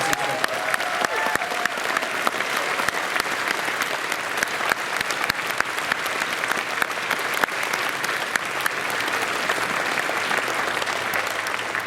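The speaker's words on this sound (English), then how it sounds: "Let's have one more round of applause for them and the magnificent performance." A large convention audience gives a long, loud round of applause for stage performers at a closing ceremony, dense sustained clapping with scattered sharp claps and no speech over it.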